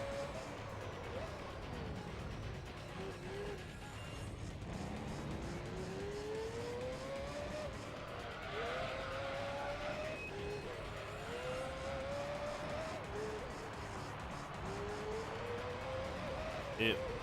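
Dallara Formula 3 race cars in Gran Turismo 3 drone continuously, engine note rising and falling through several gear shifts, with occasional tire squeal and someone talking over the racing.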